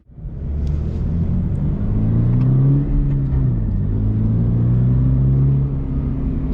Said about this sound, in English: So let's talk about the 2022 Toyota GR86 behind the wheel on track.